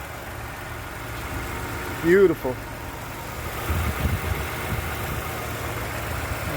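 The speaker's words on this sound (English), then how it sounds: "I just started the engine up" A 2015 Toyota Sienna minivan with 71,000 miles idles with a low, steady engine hum, close by, while a voice briefly speaks over it.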